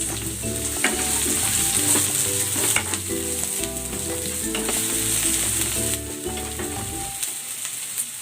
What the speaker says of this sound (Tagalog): Igigisa ko na tong bawang. At ang sibuyas.